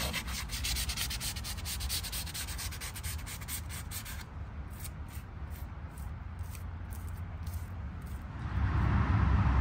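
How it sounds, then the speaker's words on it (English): Sandpaper rubbing curb rash on a car's wheel rim, a continuous close scraping with quick back-and-forth strokes at first, then a steadier grind that grows louder near the end, with no talking. "I'm gonna sand the curb rash out first and then go from there"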